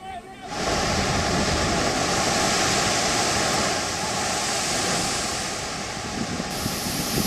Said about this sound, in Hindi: समंदर की उफनती लहरों के बीच